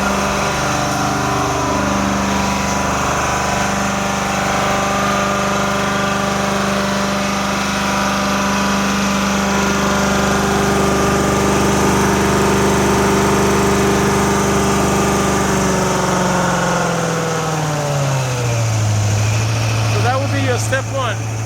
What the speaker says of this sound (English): Step one is you're trying to lower the RPM to allow the machine to turn to cool off a little bit.